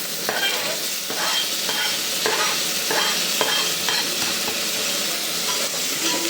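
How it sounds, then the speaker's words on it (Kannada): Chopped tomatoes fry and sizzle in a pan over sautéed onions, with repeated scraping stirs of a spoon punctuating the steady close hiss of the oil. "ಟೊಮೆಟೊನೂ ಚೆನ್ನಾಗಿ ಫ್ರೈ ಮಾಡಬೇಕು ನಾವು."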